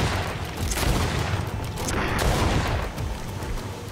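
Gunfire in the video game GreedFall as a player shoots at a swamp creature from a distance. Rapid, overlapping shots and booming blasts form a dense, continuous barrage lasting several seconds, with no talking.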